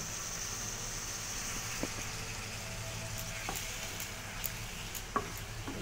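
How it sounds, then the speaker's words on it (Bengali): Paneer rice stirred in a frying pan, a steady low sizzle running throughout with occasional light scrapes and taps of the spoon against the pan. "দিয়ে এটা খুব ভালো করে নাড়াচাড়া করে নিতে হবে"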